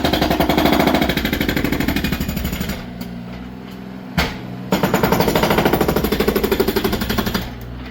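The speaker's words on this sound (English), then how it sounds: "The breaker may be a little loud," Hydraulic breaker demolishing concrete at an outdoor demolition site, hammering loud and close in a rapid, steady pounding rhythm that pauses briefly midway before resuming.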